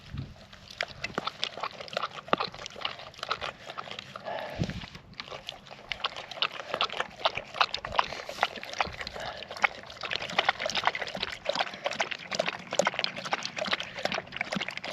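A thirsty dog on the Pig Pond Trail in Pacheco State Park laps water rapidly and steadily up close, a continuous wet clicking rhythm with a brief pause near the middle.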